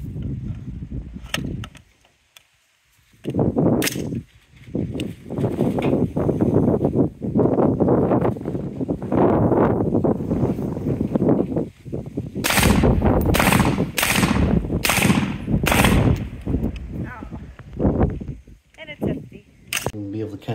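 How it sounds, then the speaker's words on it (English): A Centurion Arms CM4 rifle with a 16-inch Faxon barrel fires outdoors: a few scattered loud shots early on, then a quick cluster of sharp cracks, with voices talking between and around the shots. "Drop a little video of it, of my wife shooting it."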